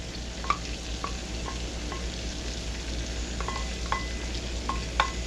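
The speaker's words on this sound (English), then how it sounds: "Let's go ahead and get our garlic on in there. Sprinkle it around." Garlic sizzles in a hot stir-fry pan with pepper steak, a steady soft hiss broken by scattered sharp spatters and pops, with no talking over it.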